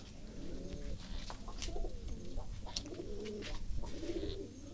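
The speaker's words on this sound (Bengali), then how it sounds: "সব কবুতরগুলোই বাইরে আছে।" Pigeons coo in soft, repeated rolling calls at a pigeon farm at night, several birds overlapping at close to middle distance over a quiet background hiss.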